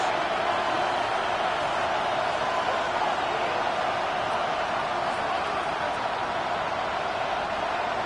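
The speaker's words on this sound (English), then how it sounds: "The crowd at Arrowhead roaring." A packed Arrowhead Stadium crowd roars late in the fourth quarter of an AFC championship football game: a dense, continuous wash of noise, steady and unbroken throughout.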